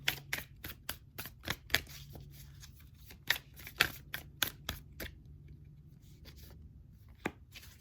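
Tarot cards shuffled and drawn in a collective reading: a run of crisp, close card snaps and slaps at an irregular rhythm, with a quieter gap near the end before a final flick, no talking.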